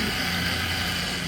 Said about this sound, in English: it's making a lot of noise, and I think a lot of that noise is coming from this plastic idler